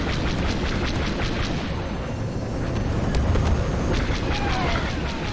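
A blockade runner blows up in Star Wars Battlefront II, a dense, continuous rumbling roar of explosions and battle noise with no speech.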